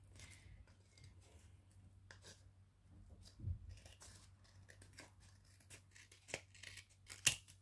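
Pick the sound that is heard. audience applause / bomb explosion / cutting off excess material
cutting off excess material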